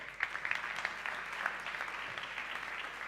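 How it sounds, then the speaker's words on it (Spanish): Audience at a business talk applauding as the next speaker is introduced, a dense, even wash of many hands clapping at moderate distance with a few sharper claps near the start. "Fuerte el aplauso para Joan González Soto"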